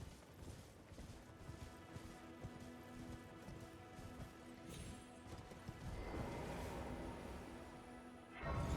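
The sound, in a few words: horse hooves while riding on horseback, from video game Elden Ring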